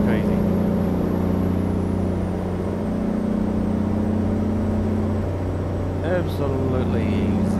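Kenworth K100 truck engine in American Truck Simulator, a loud steady low diesel drone with a constant hum, while someone talks briefly near the end.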